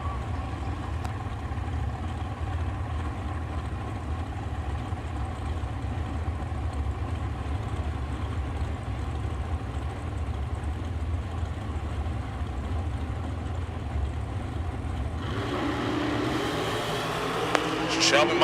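A junior dragster engine idles at a drag strip with a low, steady rumble throughout. Near the end brighter mechanical noise rises, and a public-address voice can be heard in the background.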